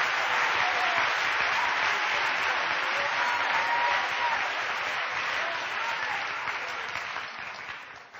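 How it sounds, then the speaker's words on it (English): Sustained applause from a church congregation during a sermon, a dense, steady roar of clapping hands that holds strong for several seconds and then begins to thin and fade toward the end. "Clap again. Clap again."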